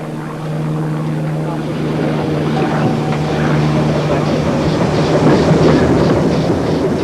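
A Wye Valley Railway pannier tank steam locomotive, not auto-fitted, runs round its train in 1959, a loud continuous rumbling and droning engine sound building steadily, with a faint rhythmic chuffing late on and no talk over it.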